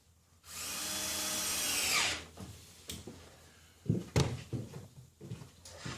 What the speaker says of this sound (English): at each end, you just screw these blocks down